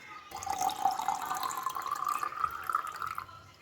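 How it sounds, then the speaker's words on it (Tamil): Water pours steadily into a copper bottle, a continuous splashing gurgle whose pitch rises slowly as the vessel fills, then stops. "இப்போது கேப் இருக்கும், தண்ணியை ஃபுல்லாக வர்ற மாதிரி ஃபில் பண்ணிடுவோம்"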